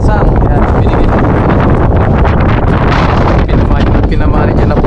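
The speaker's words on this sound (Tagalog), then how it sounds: "medyo mahangin po dito" Strong wind gusts across open water on a boat, a constant loud roar of microphone buffeting with no break, rushing and broadband throughout.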